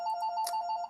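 An office desk telephone rings with a steady electronic tone, a close, loud ring that fills the moment, then cuts off abruptly at the end.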